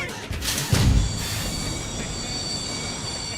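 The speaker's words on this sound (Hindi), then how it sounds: "ट्रेन चल पड़ी।" A train pulls away with loud metallic wheel squeal and a brief heavy clunk near the start, then a steady rolling hiss, heard close with no voices.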